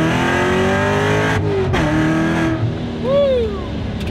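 A 550 hp supercharged C7 Corvette accelerating hard above 3000 RPM, with a loud engine roar and supercharger whoosh that briefly cuts out on a gear change, then a rising whine follows.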